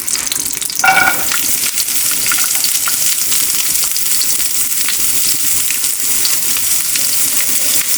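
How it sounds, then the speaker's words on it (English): Carrots hit hot ghee in a frying pan with a loud continuous sizzle and crackle, bright hissing spatter steady throughout with a brief clink near the start. "Add ghee again to our frying pan and put in our carrots."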